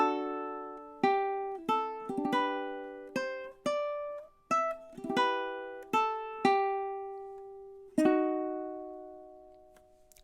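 Plucked ukulele notes from a Carol of the Bells and God Rest Ye Merry Gentlemen medley, measures 18 to 21, ring out one after another in a steady, bright rhythm, each decaying quickly. The notes are close, clear and solo, with no voices.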